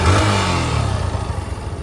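A repaired motorcycle with a newly fitted battery starts on its electric starter and revs loudly, then settles into a rattling, pulsing idle close by.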